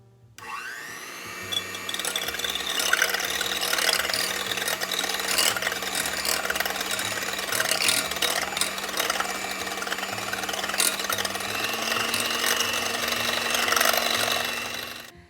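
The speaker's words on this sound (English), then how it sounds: "use my hand mixer to get these egg whites nice and foamy." Electric hand mixer whipping egg whites into foam for a red velvet cheesecake, a close continuous motor whir with rattling beaters against the bowl, running about fourteen seconds before stopping.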